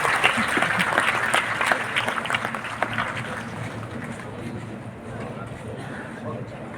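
Applause from an audience honoring girl toppers at a felicitation ceremony at Gyan Bhawan, Patna, a steady dense clatter of many hands that swells early and gradually thins, with voices mixed in underneath.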